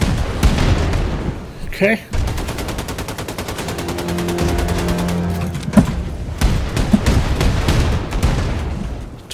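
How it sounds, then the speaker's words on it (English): Rocket explosions and rapid machine-gun fire in the Wolfenstein 2 video game, loud bursts and booms repeating throughout with a sustained rattling volley in the middle and a voice speaking briefly. "It's rockets."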